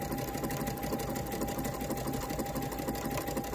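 A Luminaire 2 sewing machine stitches a scallop stitch at super slow speed, giving a steady, even mechanical whir with a fast regular ticking rhythm, close and continuous, with no voices.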